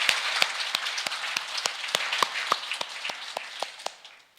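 Sparse, evenly spaced claps ring out in a church as a congregation applauds its evangelism team, a thin patter of individual hands that stays moderate and then tapers off with no voices over it.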